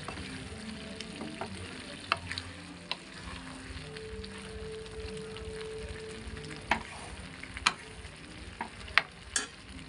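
Egg bhujiya fries and is stirred in a pan over a high gas flame, giving a steady close sizzle with scattered spatula scrapes and sharp pops.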